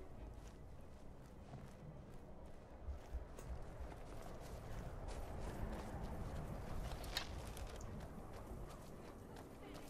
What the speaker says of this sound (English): The horses are spooked.